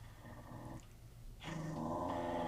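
Shiba Inu dog growling in the anime film Sword of the Stranger, a low sustained rumble that swells louder in the second half, with no talking over it.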